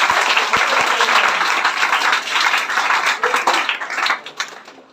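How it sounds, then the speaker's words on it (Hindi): An audience at an award ceremony honouring toppers breaks into loud, dense applause that holds strong, then thins and fades away near the end. "इसके लिए एक जोरदार ताली बनती है"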